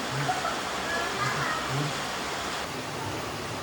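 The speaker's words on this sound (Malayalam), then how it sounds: "പുറത്ത് നല്ല മഴയൊക്കെ ഉണ്ട് കേട്ടോ" Heavy rain falls outside, a dense, steady broadband rush of water that fills the whole stretch without letup.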